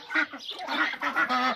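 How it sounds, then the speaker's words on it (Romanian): Backyard ducks, seven hens and two drakes including a blue one and a crested one, calling in quick, loud, close bursts of quacks and honks, overlapping in an uneven rhythm. "7 rațe și 2 rățoi, ăsta albastru și cel moțat"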